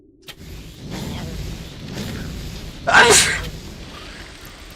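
A single sharp sneeze bursts out near the mic partway through, louder than the low murmur and faint background noise around it.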